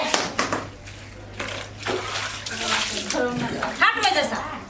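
Water gushing from a tap into a vessel, a steady close splashing stream with voices talking over it throughout.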